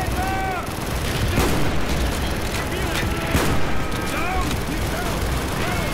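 Shots from a single-fire gun in Black Ops, several spaced sharp bangs punctuating a busy battlefield mix of game voices and background explosions, fairly loud throughout.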